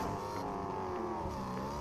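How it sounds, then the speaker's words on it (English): A car engine in the Fortnite video game approaches, a steady, continuous drone with layered harmonics and slight pitch shifts, fairly loud and sustained throughout with no talk. "We got a car coming in too."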